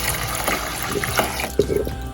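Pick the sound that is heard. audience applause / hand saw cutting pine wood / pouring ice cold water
pouring ice cold water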